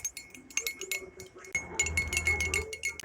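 A spoon stirs salt into water in a glass, making quick light clinks and taps against the sides, close and fairly crisp, with faint talk underneath.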